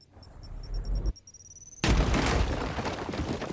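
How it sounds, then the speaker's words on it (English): Crack grenades go off in Warhammer 40,000: Chaos Gate - Daemonhunters: a loud, booming blast with a long rumbling tail, then a second, brighter explosion that keeps roaring under a steady game-sound bed. "These crack grenades are awesome."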